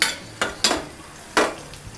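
Fenugreek seeds, chana dal and urad dal fry in hot oil, a soft steady sizzle broken by a few sharp scraping stirs of a spoon in the pan.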